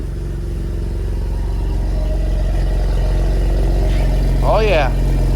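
A Cadillac ATS-V with a new exhaust and downpipes idles close by with a steady, even mid-pitched engine drone. A brief voice cuts in near the end.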